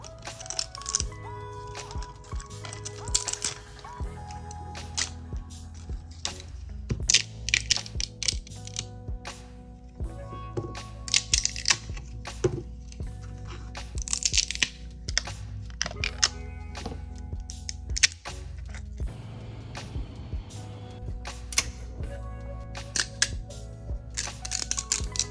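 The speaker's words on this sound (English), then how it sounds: "Time for some satisfying support removal." Support material is snapped and peeled off 3D-printed plastic katana pieces, a long run of close, irregular clicks, cracks and snaps with short pauses between bursts.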